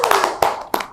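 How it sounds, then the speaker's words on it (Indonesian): A few close hand claps ring out in a podcast studio, three distinct sharp strikes within a second over a tonal background hum. "Tepuk tangan."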